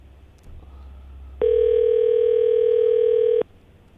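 A landline telephone call rings out with a single steady electronic ringback tone lasting about two seconds, loud and clear over a quiet background, with no talk.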